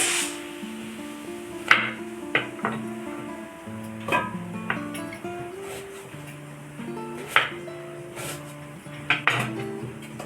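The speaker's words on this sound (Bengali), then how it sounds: "তাই দুটো পেঁয়াজ আমি কেটে নিচ্ছি।" A kitchen knife cuts two onions, producing a series of irregular sharp taps and clacks against a board, moderately close, over a steady tonal background with no speech.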